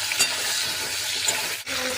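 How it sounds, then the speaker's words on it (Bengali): Ridge gourd frying in hot oil with turmeric, a steady close sizzle and crackle with light stirring and a brief scrape of a utensil near the end. "ভাজার তেলে আমি ঝিঙেটা ভেজে নেবো"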